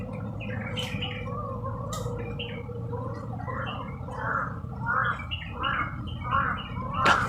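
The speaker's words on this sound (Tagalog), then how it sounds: "May uwak sila." Harsh, gurgling crow calls repeat in a rapid series over a steady low hum, growing louder toward the end.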